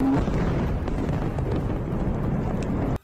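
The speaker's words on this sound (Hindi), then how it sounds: "विस्फोटक से भरा पाइप जैसे ही टारगेट पर गिरा, वहां एक जोरदार धमाका हुआ।" Explosion of a rocket-launched, explosive-filled pipe striking a steel plant in the Russia-Ukraine war: a loud, sustained blast roar with dense rumbling and crackle that cuts off abruptly after about three seconds.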